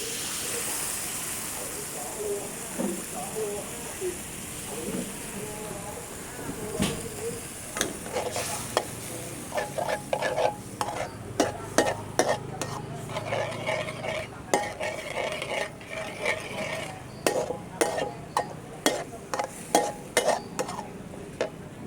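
Tofu in a pan sizzles as water is poured in, followed by brisk stirring with a metal utensil that adds rapid scraping clatter over a continuous hiss, with a voice briefly heard.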